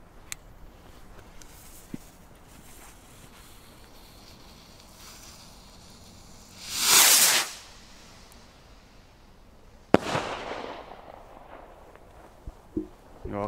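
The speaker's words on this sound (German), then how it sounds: "jetzt die graue Rakete von Xplod" A grey Xplode firework rocket launching outdoors, a short rushing whoosh climbing for about a second, followed later by a sharp bang and scattered crackles, with faint background noise between.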